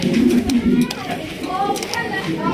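King pigeons coo softly in a low, throaty rhythm at a breeder's loft while someone talks over them, with the cooing partly masked by his voice.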